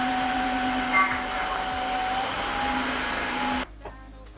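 Tineco wet-dry vacuum mop running steadily in max mode while cleaning up spilled ketchup and jam on a hard floor, a close, continuous motor whine and hum that cuts off abruptly near the end.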